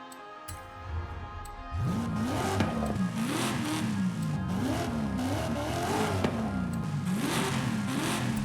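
A truck engine in the Forza Horizon 5 racing game revs repeatedly through its exhaust, a throaty, rising and falling growl that surges in steady waves after a brief quieter start, loud and continuous.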